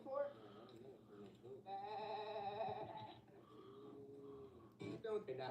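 Goat bleating in a few drawn-out, wavering calls, fairly faint, with a voice talking around it.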